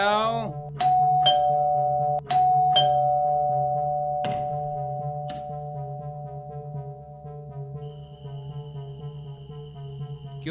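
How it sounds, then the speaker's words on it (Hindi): A doorbell chimes repeatedly in a home, several sharp ding tones in quick succession near the start, then another pair, with tonal ringing sustaining beneath; someone talks throughout. "क्यों इतना डोरबेल बजा रही हो?"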